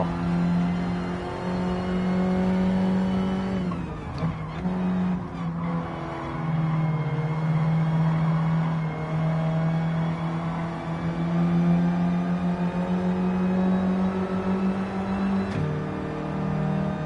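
A race car engine in Gran Turismo 7 drones at steady high revs, dipping briefly as the driver lifts off and shifts, then climbing again in a long, loud, continuous run.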